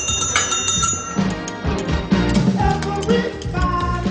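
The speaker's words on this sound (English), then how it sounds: "Luigi, if you don't ring that bloody bell, I will ring it for you" A bell rung repeatedly in a drama scene, bright metallic rings sounding again and again over music, close and fairly loud throughout.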